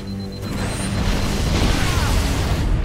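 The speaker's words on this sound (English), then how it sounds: "Where did that other explosion come from?" Booming explosions rumble through a firefight in Halo: Combat Evolved Anniversary, with a steady dense roar of game audio and crashing impacts filling the whole stretch, no one speaking.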